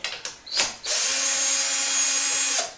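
A power drill works at a bolt, opening with a few short whirring bursts before settling into a loud, steady, close whine that runs for nearly two seconds and then cuts off.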